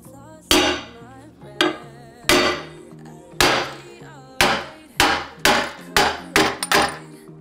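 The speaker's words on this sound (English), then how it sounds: "as I smack with the hammer" A hammer strikes hard about ten times, loud sharp metallic smacks with ringing decay, spaced unevenly and quickening toward the end.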